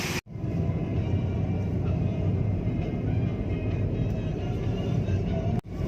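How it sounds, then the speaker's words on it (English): A car's engine runs after servicing at an auto workshop, a low, steady rumble heard from inside the cabin, muffled and continuous, briefly cut off by quick gaps near the start and end. "The engine is fairly muted."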